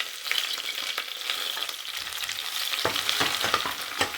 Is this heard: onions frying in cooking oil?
yes